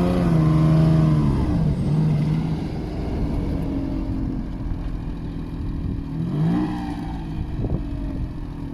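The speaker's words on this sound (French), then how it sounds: "Il y a une légère fuite à l'échappement, je pense." A car imported from Japan revs with a slight exhaust leak, a loud, close, continuous engine drone whose pitch rises and falls in a couple of swells, with no talk over it.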